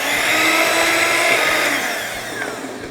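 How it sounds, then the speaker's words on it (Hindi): Electric mixer whisking lemon cake batter with buttermilk, a loud, steady high-pitched motor whine that holds for about three seconds and eases slightly at the end; no talking. "फिर से हम इलेक्ट्रिक मिक्सर से करीबन 30-40 seconds we gonna whisk it"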